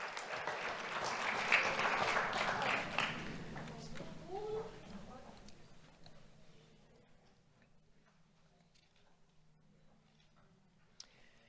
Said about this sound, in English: Let's have a round of applause for Jada Meshman Bryce.